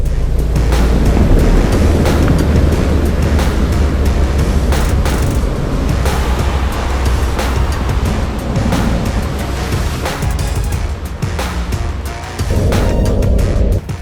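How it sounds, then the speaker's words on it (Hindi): Ocean waves breaking at sea, a loud, continuous rush of surf and water mixed with heavy wind buffeting against the microphone, with a brief dip and a renewed surge near the end, no talking. "Breaker and water, love this"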